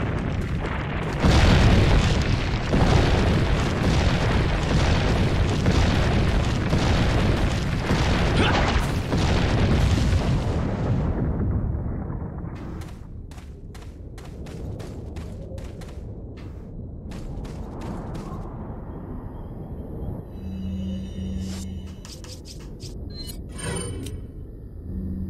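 A boulder crashes and rolls in Resident Evil 4, a heavy, loud booming rumble that sustains for about ten seconds, then gives way to quieter scattered clicks and thuds.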